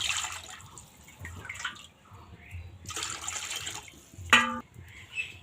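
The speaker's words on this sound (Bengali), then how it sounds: "আর কড়াইয়ের মধ্যে দিতে লাগবে কিন্তু জল" Water is poured into a wok on a lit stove while making jackfruit curry, heard as intermittent splashing and gurgling bursts with a sharp metallic clink partway through.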